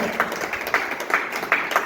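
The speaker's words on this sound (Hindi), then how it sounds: "नायक उदयवीर के लिए तालियां एक बार, तालियां" An audience at the Rashtra Gaurav award ceremony applauds army veteran Naik Udayveer Singh, producing a dense, sustained wash of clapping with a few louder swells, close and fairly loud.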